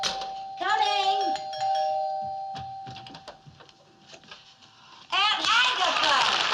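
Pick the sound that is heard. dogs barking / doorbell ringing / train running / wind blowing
doorbell ringing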